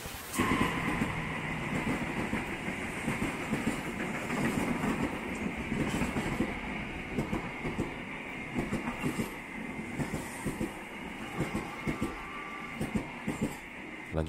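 Passenger train rolling steadily toward Blitar in East Java, with continuous rumble and repeated clickety-clack of wheels over rail joints throughout, heard from inside the carriage at moderate level.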